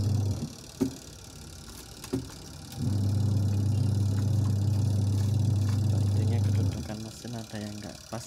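The spin unit of a washing machine dryer with an unbalanced bearing starts after a few knocks and runs as a low, steady hum for about four seconds, then winds down with rattling, while someone talks.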